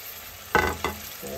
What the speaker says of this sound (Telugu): సో ఇప్పుడు క్లీన్ చేసుకున్నటువంటి రొయ్యల్ని దీంట్లో యాడ్ చేసుకుందాం.